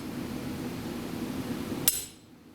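A single sharp hammer blow rings out on hot steel being forged into a spatula, struck with the hammer's face and cross peen, over a steady roar of forge or blower noise that drops away just after the strike.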